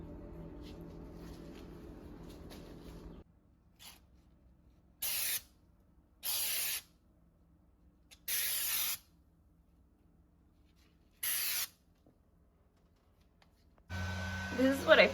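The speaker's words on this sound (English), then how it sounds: "you can spray it again, let this dry, spray it again" Wall texture is sprayed onto a newly built dividing wall in four short bursts of hissing spray, each about a second long, separated by quiet pauses, with machine hum at the start and end.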